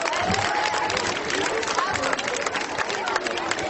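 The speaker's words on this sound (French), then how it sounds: "On peut les applaudir bien fort." A crowd applauds teams at the City Raid Andros rally event in Mulhouse, steady clapping and cheering with background chatter and an announcer's voice mixed in.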